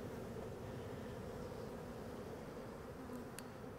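Bees from a hive lodged in a car's wheel well make a steady, continuous drone at moderate distance, with no talk over it.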